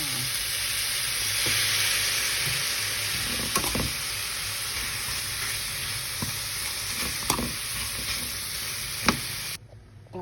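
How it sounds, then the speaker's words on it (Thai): Steady sizzling of red curry paste and chicken stir-frying in a hot pan, with occasional scrapes and clinks of a utensil stirring, no voices. "ผัดพริกแกงกับไก่ก่อนนะคะ"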